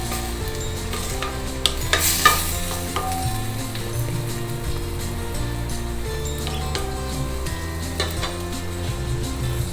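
Tomato and onion sauté in a pan for tomato rice, giving a loud continuous sizzle broken by a few sharp scrapes and clinks of stirring, with a steady tonal hum underneath.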